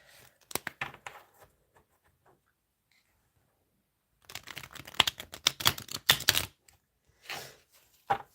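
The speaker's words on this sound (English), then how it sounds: "I'll give the cards a shuffle." Tarot cards are shuffled by hand close up, giving bursts of crisp riffling and flicking clicks, a short run early, then a longer dense flurry and a final brief one, with quiet pauses between.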